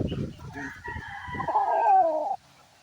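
A fighting rooster, a gamecock with white on its wing, gives one long drawn-out crow that swells and then cuts off abruptly, with a brief voice and rustling before it.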